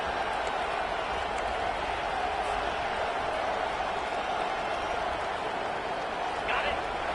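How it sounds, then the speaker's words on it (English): A large stadium crowd at a college football game, Clemson versus LSU, roars steadily as a continuous wash of noise while the defense plays in the red zone, with no distinct claps or chants standing out. "Now the crowd responding in the red zone, trying to help this defense."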